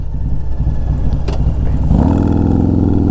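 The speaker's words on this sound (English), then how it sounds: "This sound from this bike. It sounds absolutely amazing." A Harley Road Glide with a 130 cubic inch engine, heard from the rider's seat, idles with a deep, loping rumble, then revs up hard into a sustained, loud, throaty roar.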